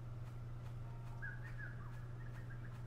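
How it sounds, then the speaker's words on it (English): Whistling in the video game Kynseed: a faint, wavering whistled melody drifts in a couple of short phrases over a steady low background hum, with no talking. "Whistles."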